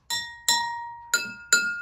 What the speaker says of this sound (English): Okay, so what happens here, they should make different sounds.